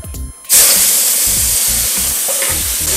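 Shrimp hit a hot wok for Japanese-style fried rice, bursting into a loud, bright sizzle after a brief quiet start, with rhythmic scraping stirs of the spatula repeating under the continuous frying hiss.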